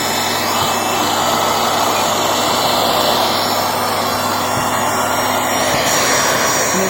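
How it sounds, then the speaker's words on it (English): A turbo brush vacuum cleaner's turbine spools up with its cover on, making a loud, steady, close-up high-speed whirring whine and airy roar that holds throughout. "if I put the cover on so that the air is, you can actually hear the thing spool up"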